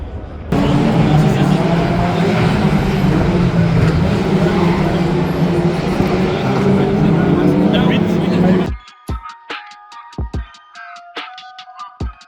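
Renault Gordini driving fast at the Youngtimers festival at UTAC Montlhéry circuit, a loud sustained engine roar and road noise for about eight seconds, then cutting to quieter clicks and rattles.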